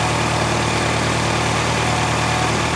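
A car engine with no oil idles steadily with a broad, loud mechanical roar and a faint low rhythmic hum, no voices.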